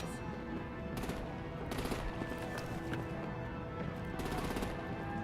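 Rapid gunfire crackles in dense bursts through a Batman Telltale video game battle, with heavier volleys flaring up repeatedly over a constant loud backdrop of combat noise.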